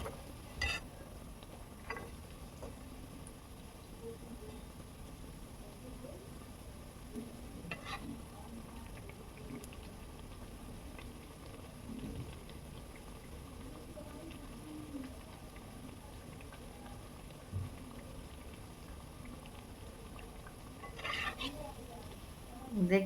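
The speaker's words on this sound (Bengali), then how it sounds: "উল্টে পাল্টে ব্রাউন কালার করে ভেজে নেব।" Langcha sweets frying in hot oil, a low steady sizzle running throughout with occasional scraping and clinks as they are turned, faint and even, with birds chirping in the background.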